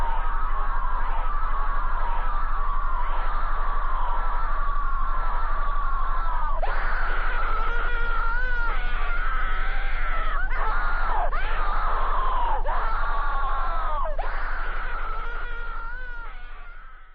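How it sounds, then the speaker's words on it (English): A woman's recorded screaming, harsh and distorted, runs in long wailing bursts that grow more frantic after the first few seconds, loud and clipped, then trails off as the volume fades out at the end. "what follows is incredibly disturbing audio of a woman screaming"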